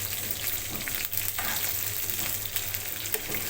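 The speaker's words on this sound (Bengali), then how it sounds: "আমার সুন্দর ভাজা হচ্ছে" Pieces of liver frying in oil for chilli liver, a dense, continuous close sizzle with light stirring scrapes and no voices.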